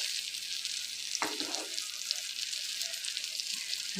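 A faint, steady sizzle of spices frying in a pan, with a brief scraping stir partway through.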